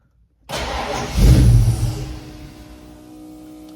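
A car engine fitted with FiTech fuel injection cranks briefly and fires, swelling into a loud rev before dropping back to a steady, quieter idle, heard close and without talk.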